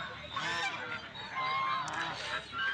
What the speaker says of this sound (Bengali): এখানে যে হাঁসগুলো দেখতে পাচ্ছেন এগুলো ব্যাপারীরা কিনে রেখেছে